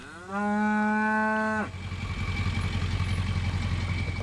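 A cow on a drought-stricken US farm gives one long, loud, close moo, followed by a low rumbling engine and clatter in the background.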